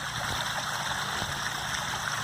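Steady broadband rush of water spilling down a spring-fed koi pond waterfall, continuous and fairly close, with a faint low hum underneath and no voices.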